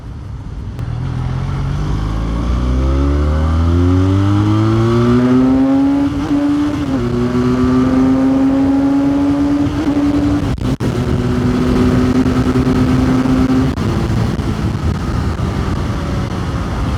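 Benelli 502C motorcycle accelerating hard and shifting up through the gears, loud rising engine pitch sweeping upward, dropping at each shift, then holding a high steady whine before easing off.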